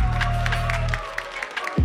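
Audience applause with some cheering for a rapper at an Ivorian urban music contest show, a brief burst of clapping and crowd noise over a low musical hum that fades out.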